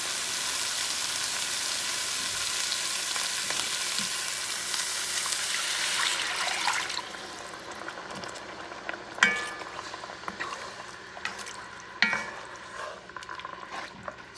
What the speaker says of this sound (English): Mix things well. And now you add water.